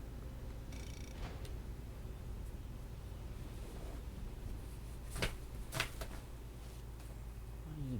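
A pet kitten purrs softly and continuously close by, a steady low rumble under a faint game soundtrack, with a couple of brief sharp clicks near the end.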